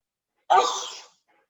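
A single sharp, breathy sneeze imitated by a voice, sudden and loud, then fading out over about half a second in an otherwise quiet setting.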